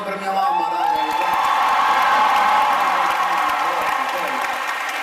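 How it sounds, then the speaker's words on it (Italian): A concert crowd at a show in Padova applauds and cheers for the singer's mother, with whoops and shouts rising over sustained clapping, a lingering musical tone underneath, and the roar swelling then easing slightly toward the end. "Un applauso per mia mamma, raga."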